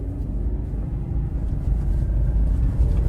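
A 2024 Subaru Crosstrek accelerates at half throttle through snow, its low steady engine and road rumble heard from inside the cabin.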